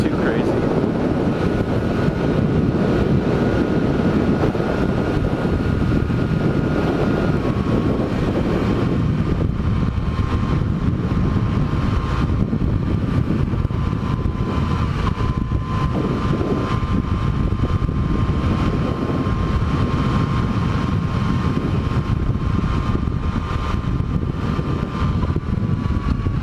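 Heavy, steady wind roar buffets the microphone on a Yamaha FJ-09 motorcycle during a gusty daily commute, with a continuous engine drone beneath it and no break for the whole stretch.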